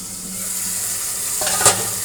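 Hilsa fish goes into fried spice masala in a pan, a steady sizzle with a short stirring scrape and a brief louder burst near the end, no voices.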